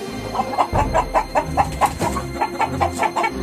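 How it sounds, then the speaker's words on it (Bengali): Cartoon chickens cluck loudly and rapidly in a rhythmic run of short, bright calls, about a dozen in quick succession, close and continuous without pause. "মুরগিগুলো খুব জোরে জোরে ডাকাডাকি করতে শুরু করে"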